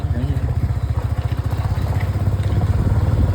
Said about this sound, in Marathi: खूप दिवसांनी बाईक चालवते